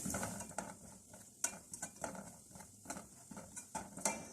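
Semolina frying in oil in a pan while being stirred for dry date halwa, giving soft scraping strokes at an irregular rhythm with light sizzle underneath. It is fairly quiet and close, with no talk.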